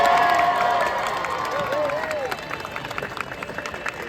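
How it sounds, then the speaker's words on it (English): Outdoor crowd at a Renaissance festival birds of prey show applauding and cheering for Cece, a steady wash of clapping and voices that fades gradually, with talking mixed in. "Give him a big round of applause."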